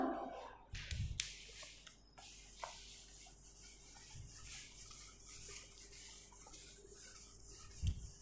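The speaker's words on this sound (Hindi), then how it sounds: "तो एक बार रब कर लेते हैं थोड़ा सा." Something is rubbed briefly by hand during a school chemistry lesson, making soft scraping, rasping strokes that come and go close by, with a few louder bumps and a faint steady hum behind.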